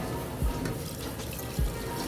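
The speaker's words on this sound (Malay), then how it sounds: "tambah air ikut kesesuaian beras korang lah" Water pours into a pot of washed basmati rice, a continuous splashing rush with a couple of soft thuds, fairly close and steady.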